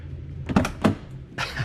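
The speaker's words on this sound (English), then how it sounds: "When you shut the doors, it takes me back." Doors of a 1980s BMW Alpina B7 Turbo E28 sedan are shut, giving a few solid close thuds in quick succession, the last a little apart.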